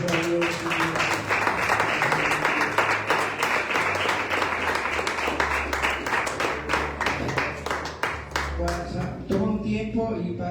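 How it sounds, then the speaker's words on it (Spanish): A church congregation applauds at a Wednesday evening service, steady loud clapping sustained for about ten seconds over a low musical drone, then fading as it ends. "Dale un fuerte aplauso a Dios, Señor."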